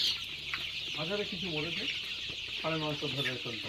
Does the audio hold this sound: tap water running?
no